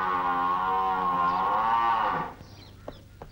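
A buffalo in a 1979 Hindi film lets out one long, loud, drawn-out moo that fades, followed by quiet scattered clicks.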